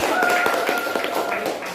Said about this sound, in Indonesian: Tepuk tangan dulu untuk Tania